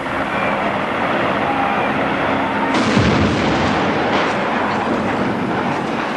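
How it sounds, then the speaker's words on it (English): A building is demolished for a film stunt with dynamite and 230 gallons of ignited gasoline, making a loud, sustained roaring blast with a sharp surge midway and heavy rumble throughout. "A crew of true demolition men will blast the building with dynamite."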